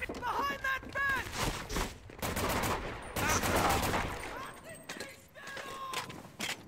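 Gunfire in the war shooter Medal of Honor: Vanguard, rapid bursts and single shots crackling continuously with footsteps and battle noise, dense and close throughout the mix.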